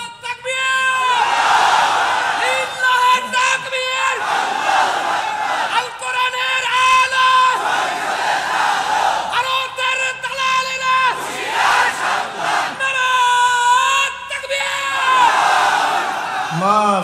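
A large crowd chants and roars the Islamic slogan Naraye Takbir in loud repeated call-and-response bursts, voices swelling together throughout at a religious gathering.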